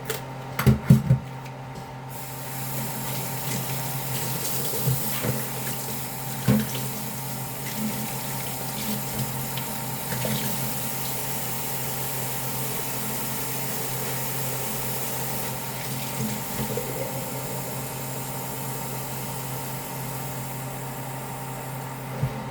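Tap water runs steadily into a pot or sink in a home kitchen while spaghetti sauce is being cooked, a constant close flow lasting throughout with a few small clinks and no talking.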